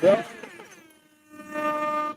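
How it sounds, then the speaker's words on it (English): A sustained horn-like tone with strong harmonics sounds twice, separated by a short pause, following a brief burst of voice at the start. "Sorry if the air horn is too loud."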